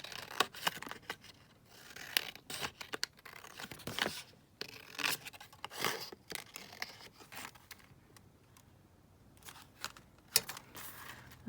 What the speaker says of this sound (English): I'm just going to trim this down because it doesn't look very straight.